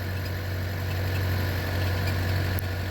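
A Chery Tiggo 8 Pro Max engine idles steadily just after starting, a constant low hum with a faint higher whine, close and uninterrupted for the whole stretch with no talk.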